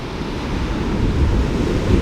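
Ocean waves wash steadily onto a secluded beach on Oaxaca's coast in Mexico, a continuous broad roar of surf with some wind rumble, close and fairly loud, with no voices.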